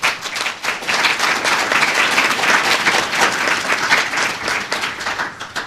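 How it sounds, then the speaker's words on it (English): A town hall audience gives the panel a full round of applause, dense and steady clapping from many hands that stays loud and even throughout with no break. "if you could give our panel a round of applause"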